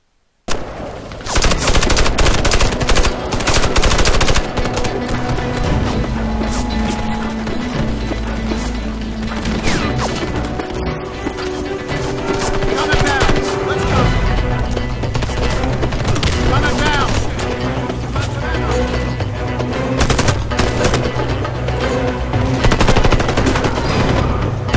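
Dense gunfire during a co-op arena fight in the video game Warface, loud sustained machine-gun bursts and shots with impacts and crashes running nearly nonstop, mixed with game effects.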